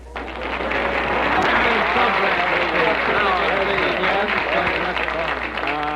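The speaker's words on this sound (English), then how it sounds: "Applause." Studio audience applauding on the Jack Benny Show: a loud, dense, sustained burst of clapping that swells quickly and holds steady, with faint voices mixed in.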